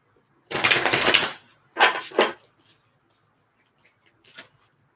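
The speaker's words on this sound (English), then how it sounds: "Let me shuffle these cards here." Tarot cards are shuffled close by in a few crisp riffling bursts, one long, two shorter and a brief final flick, separated by quiet.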